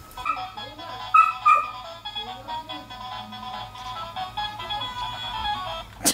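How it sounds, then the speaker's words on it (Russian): Dogs play close by indoors, giving high yips, whimpers and short barks in irregular bursts, with voices at times in the background. "Запустим собак, может, они поиграются."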